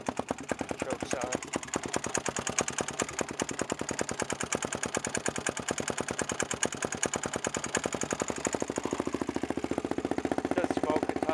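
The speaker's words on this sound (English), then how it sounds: "It has a little bit of valve noise. I deliberately set up the valves kind of loose." A small engine runs with deliberately loose valves, giving a fast, even ticking clatter over its steady putter, loud and close throughout, with the beat roughening slightly toward the end.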